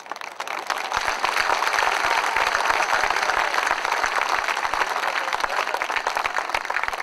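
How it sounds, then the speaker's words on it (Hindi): A kavi sammelan poetry audience gives a thin, steady patter of applause, continuous and fairly close, running for several seconds without talk. "ये जो कमजोर तालियां हैं ये मुझे बता रही हैं कि मैं आपका नहीं हूं"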